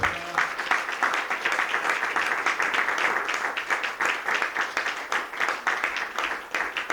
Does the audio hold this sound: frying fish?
no